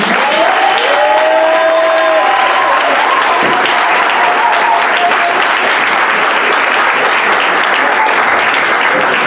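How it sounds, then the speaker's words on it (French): A congregation at a New Year's Eve night worship service cheers and applauds loudly, with sustained dense clapping and crowd voices over a held tone for the whole stretch. "Quelqu'un donne une voix d'acclamation à Jésus."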